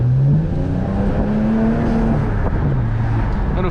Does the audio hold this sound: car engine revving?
yes